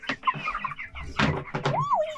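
A small rooster with his hens on an off-grid homestead, giving a few short clucks and a rising, drawn-out call close by, with a person speaking softly between the calls.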